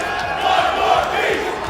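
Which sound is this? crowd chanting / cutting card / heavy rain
crowd chanting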